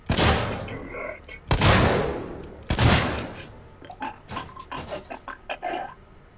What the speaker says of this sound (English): Starting to test my weapon.